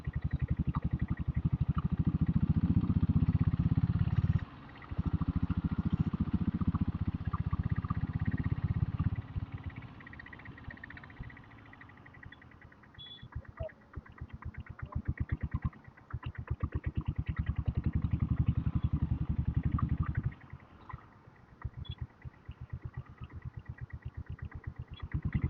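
An engine runs on a diesel Royal Enfield Bullet motorcycle with a gear-shifting problem, riding an old bypass road. A low, heavy, throbbing chug swells and eases over a long stretch with one brief drop.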